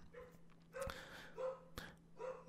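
Dogs bark in several short bursts, spaced apart and fairly faint, indoors over a low steady hum.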